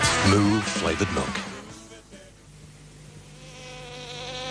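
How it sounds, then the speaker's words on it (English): A bee buzzing with a dense, wavering drone that starts loud and close, then fades to a quieter hum, heard alongside a voice. "The bee is nature's storage expert."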